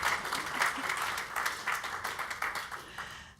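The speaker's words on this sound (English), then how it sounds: "You can clap for her, it's okay." An audience at a conference talk applauds, a dense wash of many hands clapping together at a steady level throughout.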